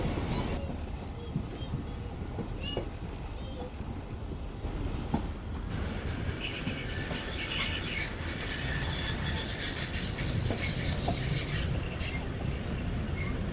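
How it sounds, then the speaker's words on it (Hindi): A train brakes to a stop at Detha railway station, its rumble building as high metallic wheel squeals rise in and hold for several seconds before easing slightly. "शायद रुक जाए ट्रेन, ब्रेक्स लग गए हैं।"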